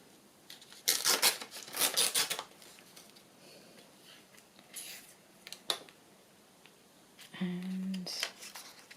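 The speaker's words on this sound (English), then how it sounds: "I don't really want a jaggedy tear, so I'm just going to tear that" Paper torn by hand for a sewing journal: a few close, short rasping tears in bursts with quiet pauses between, ending in a brief fainter rip alongside a tonal squeak.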